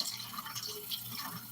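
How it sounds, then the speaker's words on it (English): Tap water running steadily into a kitchen sink while dishes are washed, a continuous broadband splashing with small drips and clinks, moderately close and alone without talk. "So I'm gonna actually do dishes while we're talking. So if you hear water running,"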